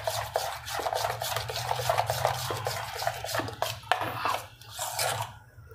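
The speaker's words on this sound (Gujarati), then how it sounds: "થોડુંક આમ ફેટી લેવાનું." Rava (semolina) pizza batter beaten by hand in a bowl gives rapid, rhythmic scraping and slapping strokes, close and fairly clear, running almost without pause and easing off at the very end.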